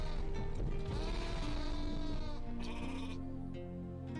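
Sheep bleating in the video game Talking Simulator, a loud, continuous wavering cry mixed with game music and sound effects.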